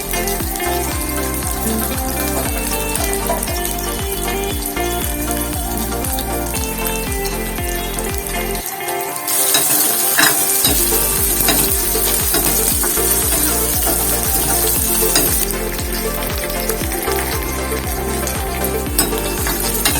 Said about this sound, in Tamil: பச்சை மிளகாய் போட்டுக்கலாம். இது கொஞ்சம் வதங்கட்டும்.